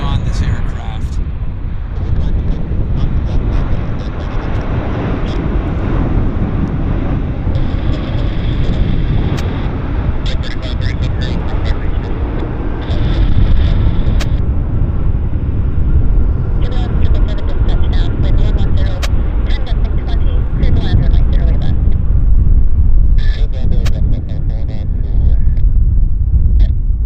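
A Cathay Pacific airliner touches down at Vancouver International Airport, its loud, steady roar of engines and rushing wind holding for the whole stretch, with occasional brief talk layered over the noise.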